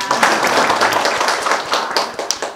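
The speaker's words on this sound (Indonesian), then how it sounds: "tepuk tangan untuk kita semua" Close, brisk hand clapping from a school audience at an accreditation event, a dense patter of many hands with a few louder individual claps.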